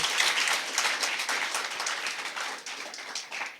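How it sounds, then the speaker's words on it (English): An audience at an impromptu speaking competition claps in a warm, continuous round of applause, moderately loud and close, tapering slightly toward the end. "Can we please give them a round of applause once more?"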